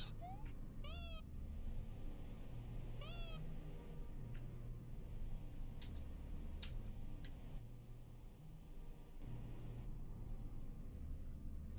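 A cat gives two clear, rising meows a couple of seconds apart, fairly close, over a low steady hum with scattered faint ticks and clicks afterward.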